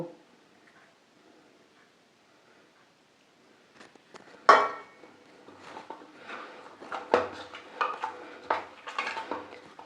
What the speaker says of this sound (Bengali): এটা ভালো করে ফেসে নেব আর সামান্য একটু জল দেব